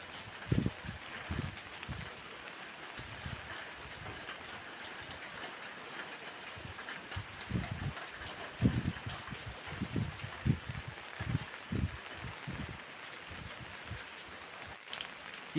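Heavy rain falling steadily in Ambalavayal, Wayanad, Kerala: a dense, continuous wash of noise broken by irregular low thumps and gusts, with no voices.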